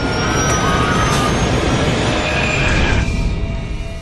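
A TAM airliner's jet engine accelerating: a loud, dense roar with a rising whine that holds steady, then eases slightly toward the end.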